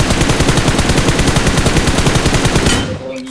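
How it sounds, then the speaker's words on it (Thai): Rapid automatic gunfire in the battle royale game PUBG, a loud continuous burst of shots hitting the player, stopping abruptly near the end. "โดนยิงแล้วอ่ะ"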